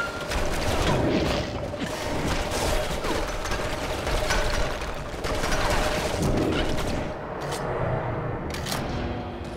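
Dense gunfire barrage in the action video game Stranglehold, continuous rattling shots layered over mechanical clatter and rumble, loud and sustained throughout.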